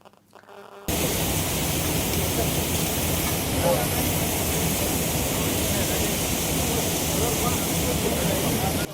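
Water released from a reservoir rushes into crop irrigation canals: a loud, steady roar that starts abruptly after a brief quiet moment and then runs unbroken to the end.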